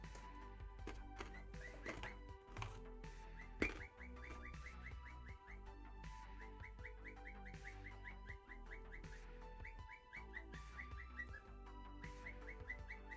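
A pet bird sings from its cage, repeating rapid chirping and whistled phrases steadily throughout, mid-distance over a constant low background hum in a room.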